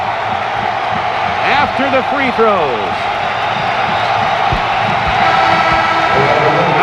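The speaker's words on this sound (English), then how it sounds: "the crowd on their feet" An NBA basketball crowd at a Lakers vs. Warriors game in January 1996, on its feet as Magic Johnson returns, keeps up a sustained cheering roar while a commentator talks over it.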